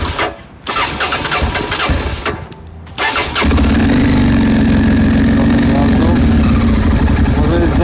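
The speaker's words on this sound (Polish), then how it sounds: "Słychać, wchodzi na obroty, rozgrzewa się maszyna." A motorcycle engine is started on choke on a mild 18-degree day. After a few seconds of cranking, it catches and settles into a loud, steady, close idle as it warms up.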